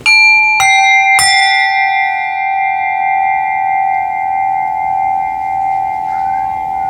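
A loud, clear bell ping struck three times in quick succession, the bright tone ringing on and slowly decaying for several seconds, close and alone.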